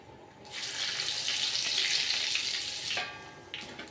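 Cumin seeds and whole garam masala spices hit hot oil in a pan for a vegetarian cauliflower roast, giving a loud, steady sizzle that swells quickly, holds for about two and a half seconds, then fades.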